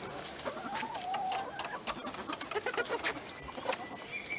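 Hens in a community garden cluck and chatter softly at a distance, with scattered short calls over a steady outdoor background.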